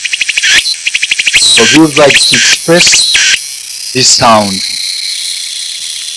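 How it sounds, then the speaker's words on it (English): A typical Japanese cicada sings as a pulsed, buzzing chirr at the start, then becomes a thin, steady high drone that carries on under and after a man's speech. "I'm not sure if this cicada exists in Taiwan, but in Japan it is very typical cicada."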